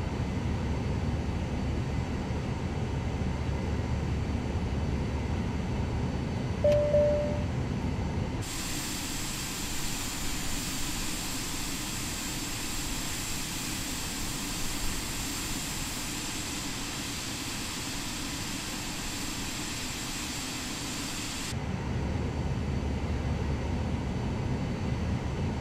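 Aircraft engine in Microsoft Flight Simulator 2020 spooling up for takeoff, a steady loud roar with a high whine that holds for about thirteen seconds over a lower rumble, then drops back to a quieter idle drone.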